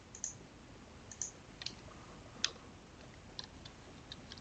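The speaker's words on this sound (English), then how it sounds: "I'm going to type in capital letters," A few sparse, faint clicks of computer keyboard keys, capital letters being typed, spaced irregularly across a quiet background with no talking.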